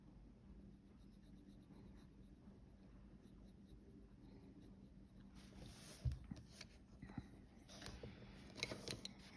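Colored pencil shades on paper with soft, faint scratchy strokes, a steady close rasp that grows brisker and slightly louder in places as pressure changes.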